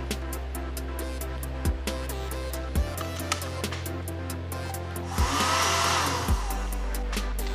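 A blower fan hair dryer runs on a bench test, a steady droning whir with a mains hum underneath, interrupted by sharp switching clicks as it cycles between speeds, with a louder airy rush near the end.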